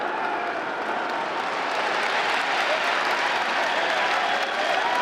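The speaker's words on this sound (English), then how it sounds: "Bangot Dak met with thunderous applause." Loud, sustained applause and crowd noise fill a basketball arena after a junior seven-footer's dunk in an Arizona State versus Colorado men's game, steady and dense for about five seconds.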